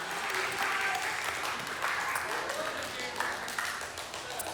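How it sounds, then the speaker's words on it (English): A high school evening church audience breaks into warm applause, a dense steady wash of clapping that continues throughout with some voices mixed in. "can we give him a little love and a little round of applause here?"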